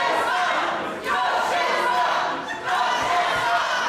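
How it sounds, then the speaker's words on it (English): Dense, roaring arena crowd at a GWF Chaos City wrestling event, sustained cheering and shouting just after the opening bell, loud throughout with two brief dips in volume. "What a crowd support for Crowchester."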